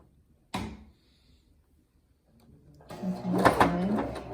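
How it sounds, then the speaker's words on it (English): A home sewing machine stitches pleats and elastic on a fabric face mask. One sharp close knock is followed by a pause, then the motor runs up into a steady whirring burst of rapid stitching, with no talk. "you might have to help your sewing machine along"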